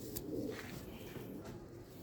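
A golden pigeon coos softly, a low, faint murmuring call close by amid quiet room noise, brief and barely above the background.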